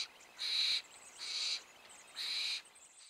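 Barn owl calls at a grassland preserve on the shore of a bay: three harsh, hissing screeches about half a second each, evenly spaced, fairly close and clear against quiet night background.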